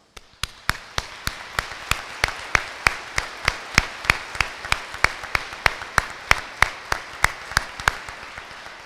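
A single pair of hands claps in a steady, even rhythm for the faculty, deans and staff at a college graduation ceremony, crisp, evenly spaced claps with a faint room background.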